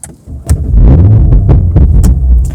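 A 2025 Audi RS4 Competition engine in RS mode cranks and fires up with a loud, deep rumbling throb close by, settling into a steady idle.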